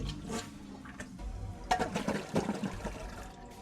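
A toilet is flushed in a house, a loud rushing of water that swells midway and churns on in gurgling surges, close by and alone.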